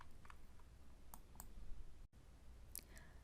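A computer mouse clicks several times, sharp and close, while arrows on a screen are expanded; no voice is heard.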